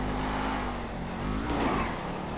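Racing cars in GTA 5 roar past with a steady engine drone and rising revs, loud and continuous throughout with a brief swell near the end.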